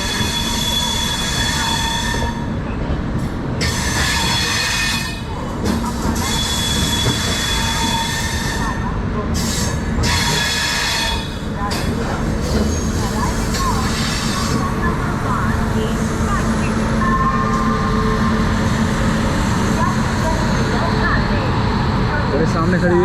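Paschim Express at Ambala railway station, a loud, steady rumble of rolling stock with squealing wheels and rail noise throughout, under a busy hum of voices on the platform.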